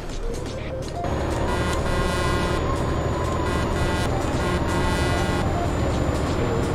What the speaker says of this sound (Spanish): Toca el claxon.